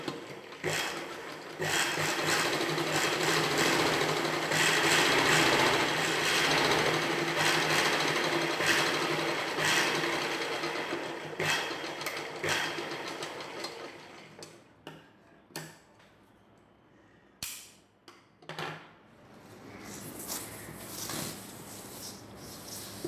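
A sewing machine stitches piping cloth onto a blouse neckline, running in a dense, steady clatter for several seconds before slowing into short, separate bursts and ticks.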